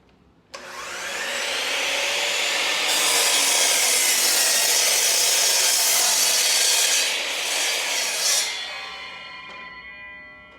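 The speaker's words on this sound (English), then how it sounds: "I'm going to undo the little latch so that I can make my sliding cut." A sliding miter saw whines up to a loud, sustained high-pitched roar as it cuts through a piece of wood, then spins down to silence over several seconds.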